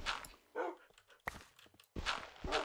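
Several dogs in the Minecraft video game yip and bark in short bursts, with a couple of louder clusters at the start and end and quieter footsteps between.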